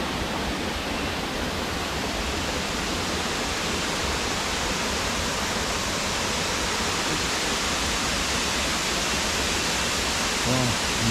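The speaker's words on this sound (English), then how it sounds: "Nice waterfall." Rushing roar of the Chalavara waterfall, a steady broadband wash of falling water that holds constant and loud throughout, with no break or change.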